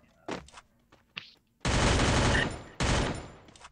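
Gunfire in a shooter video game: a few scattered shots, then two long, loud bursts of rapid automatic fire, with no talk heard.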